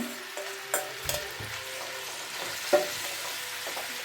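Marinated paneer frying in hot oil in a kadai, a soft steady sizzle broken by a few sharp clinks and scrapes of stirring, close and quiet with no voices.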